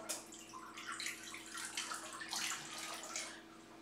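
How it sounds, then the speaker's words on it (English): Water from a tap splashes into a container of soaked cashews being prepared for a creamy spinach artichoke dip, a steady close trickle and gurgle lasting several seconds with no voices. "And then I'm going to add a little bit of water."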